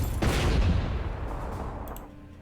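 A sharp volley of gunfire opens a Panzer Corps 2 wargame attack, with heavy overlapping bursts up front that decay into a fading rumble.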